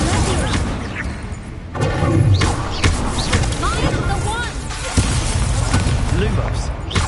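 Incendio fire spell bursts in Hogwarts Legacy, several whooshing impacts and booms spread over the clip amid busy game effects and a talking player.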